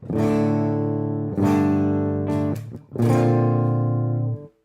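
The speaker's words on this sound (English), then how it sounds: "it give you like more and more volume, and with this kind of start giving the distortion because of the valve" An electric guitar is strummed hard through an Amplitube 5 valve amp model, the tone breaking into distortion, ringing out as three long sustained chords with brief breaks between them.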